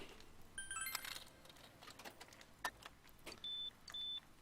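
Tap soda cans clunk out of a vending machine in the video game Persona 4 Golden: a few quick clunks and clicks, followed by short electronic beeps, heard faint and alone.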